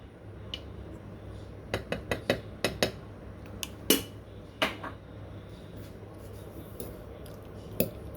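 A utensil clinks and scrapes against a bowl as shrimp marinade with cornstarch and oil is mixed, giving scattered sharp taps in short clusters, fairly close, with quiet pauses between.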